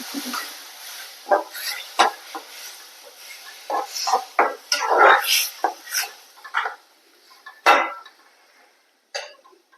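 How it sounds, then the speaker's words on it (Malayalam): A spoon stirs tomato into an egg fry in a pan, giving scattered scraping and clinking strokes at irregular intervals, fairly close and moderately loud with quiet gaps between. "നന്നായിട്ട് ഇളക്കി കൊടുക്കുക"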